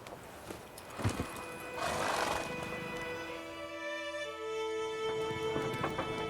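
Geralt's horse Roach in The Witcher 3 lets out a loud, close neigh, then trots with steady clip-clop hoofbeats, with no talk over it.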